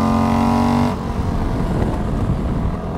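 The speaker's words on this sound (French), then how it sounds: "j'ai dû leur faire peur avec le bruit du moteur" A King of the Baggers racing bagger motorcycle roars loudly on a racetrack, then the engine tone drops off abruptly about a second in. A close rumble and rushing wind noise follow.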